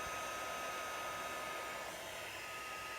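A heat tool blows steadily while melting mixed-media metallic embossing powder, a constant close, loud airy whoosh with a faint high whine that holds without a break throughout.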